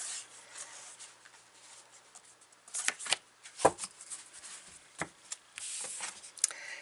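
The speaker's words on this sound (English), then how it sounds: "These are so big, they're hard to shuffle." Large oracle cards are riffled and rubbed together in a series of soft, scraping shuffles with a few sharper slaps, close and fairly quiet, with no talking.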